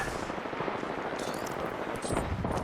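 Sustained automatic gunfire in Apex Legends, a dense, steady rattle of shots running the full length with no pauses, loud and close.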